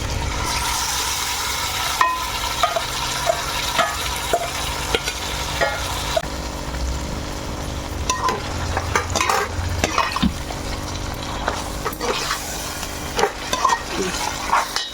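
Marinated chicken for biryani fries in a pan, a dense continuous sizzle that stays loud and close, with spoon scrapes and clinks against the pan all through and no speech.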